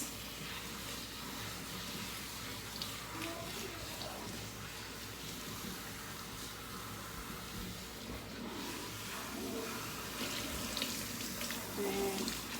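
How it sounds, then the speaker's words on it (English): Tap water runs steadily while hair on a lace frontal wig is rinsed under it, a continuous close splashing hiss that swells slightly toward the end, with no talking. "just make sure you get into those cuticles and rinse."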